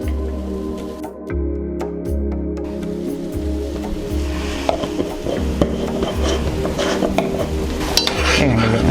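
A spoon stirs turmeric powder into boiling, thickened ginger tea in a metal pot, scraping and clinking steadily against the pan over a low bubbling simmer, with no talking.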